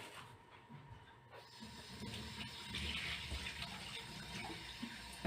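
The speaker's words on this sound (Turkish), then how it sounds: "Şöyle nohutun suyunu da süzeyim." Cooking water from boiled chickpeas pours out of a pot in a kitchen, a faint, steady rushing splash that swells slightly toward the end, with no talk.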